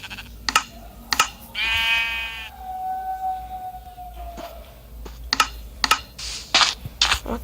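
Minecraft game sounds with a clear sheep bleat in the middle, surrounded by clicky taps and soft thuds. Quiet background, no talking.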